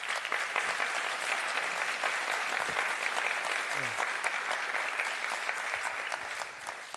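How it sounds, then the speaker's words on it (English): An audience at a university distinguished-speaker lecture gives a sustained round of applause, a thick, even wash of many hands clapping that carries on for several seconds, with a faint voice briefly underneath. "A round of applause,"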